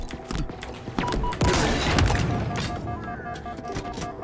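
Sniper fire in Halo Infinite heard as several sharp gunshot cracks. One louder boom with a rumbling tail comes in the middle, over steady game background sound.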